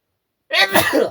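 One sharp, loud sneeze bursts out close to the microphone after a moment of silence, a quick explosive burst trailing into a breathy rasp.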